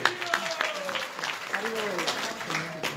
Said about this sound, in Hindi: इनके लिए जोरदार तालियां खड़ी हो